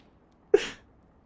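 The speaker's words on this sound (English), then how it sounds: "Scream kind of sneeze." A single sharp sneeze bursts out of near silence, loud at onset and trailing off quickly, with no talking around it.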